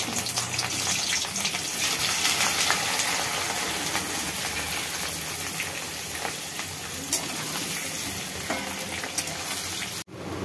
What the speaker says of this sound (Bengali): সেদ্ধ করা কপিটা আমি এখন ভেজে নিচ্ছি